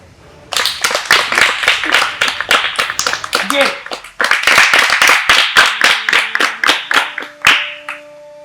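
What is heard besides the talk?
people clapping hands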